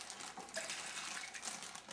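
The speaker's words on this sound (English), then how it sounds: "I'm going to add just a wee bit more, like 1/4 cup more" Water pours steadily into a cooking pot for masala chai, a soft continuous splashing that stays fairly quiet and close.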